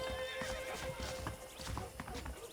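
Saddled horses in the video game Red Dead Redemption clip-clop in irregular hoof beats on the ground, with a neigh, snorts and light ambient game sounds, fairly close but quiet.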